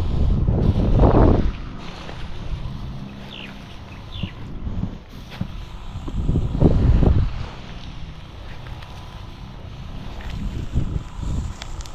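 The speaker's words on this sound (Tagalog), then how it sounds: "palakas na ng palakas yung hangin" Strong wind gusts buffet the microphone in loud, rumbling bursts that rise and fall over a steady blustery background.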